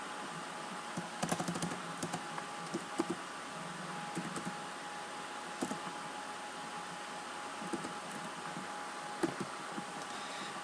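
Computer keyboard typing while writing C# code, light irregular clusters of keystrokes under a steady hiss, close and quiet with no talking.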